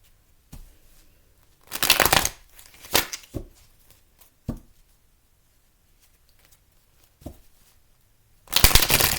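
Tarot deck shuffled in separate short bursts: a long riffle, a few quick flicks and taps spread over several seconds of near silence, then a final loud riffle, all close up with no talking.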